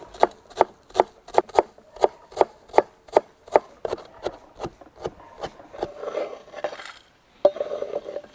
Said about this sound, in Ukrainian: Нам залишилось нарізати нашу зелень, укроп і петрушечку.